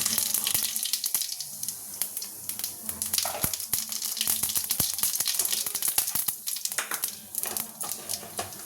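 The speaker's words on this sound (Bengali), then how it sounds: "কড়াই তেল গরম হয়ে গেছে যে শুকনো লঙ্কা জিরে ফোড়ন দিয়ে দেবো" Dried red chillies and cumin seeds sizzle in hot oil in a kadai, a steady close hiss broken by dense crackles and pops throughout.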